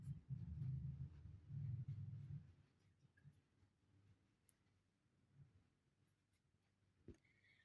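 Pen or pencil scratches numbers into a notebook during a class two measurement maths lesson, soft close scribbling strokes followed by quieter taps and a faint click, with no talk.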